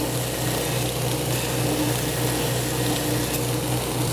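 Power sander with 50 grit abrasive shaping the spine of an antler-handled knife, a steady continuous grinding whir with constant loudness and no pauses.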